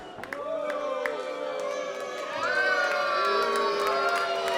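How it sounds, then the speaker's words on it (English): A pro wrestling crowd at a live event cheers and shouts, a mix of many raised voices and whistles that swells louder toward the end. "This crowd really getting on Richie's case here"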